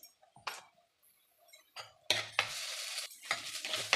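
Ginger garlic paste hitting a hot pan for a potato kurma, with a stirring scrape and soft sizzle in short bursts, then a steadier, louder frying hiss broken by spoon-against-pan strokes.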